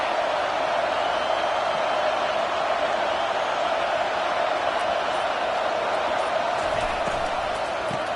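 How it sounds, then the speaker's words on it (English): Stadium crowd at a Miami versus Virginia Tech college football game: a constant, loud, even roar of many voices filling the whole stretch without letting up. "This crowd bringing the energy and noise early."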